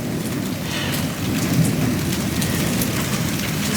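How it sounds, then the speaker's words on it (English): A thunderstorm brings steady heavy rain hissing on surfaces, with a long, deep rolling rumble of thunder building and sustaining throughout. "Just wait for the interruption of the thunder to finish."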